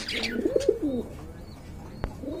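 Large, light-coloured pigeons give a short rolling coo up close, followed by a quieter pause and a single sharp click.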